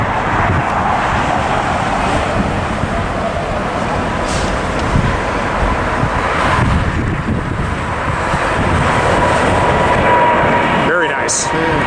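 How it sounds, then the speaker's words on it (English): A KLM Boeing 777 airliner takes off at LAX, its loud, steady jet roar mixed with heavy wind buffeting on the microphone and some traffic noise throughout. "KLM 777 taking off"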